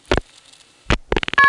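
Telephone dialing on an XY step-by-step switch comes through as short buzzing pulse bursts separated by silence, followed by a rapid run of clicks and a steady tone, close and fairly loud.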